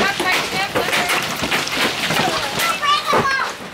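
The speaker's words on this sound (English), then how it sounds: "It's just some crazy hail." Dense hail pelts a truck and trailer on the Custer State Park Wildlife Loop, a loud, continuous rattling clatter of countless impacts, with people talking over it.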